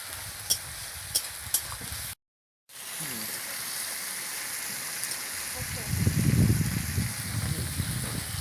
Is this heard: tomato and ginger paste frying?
yes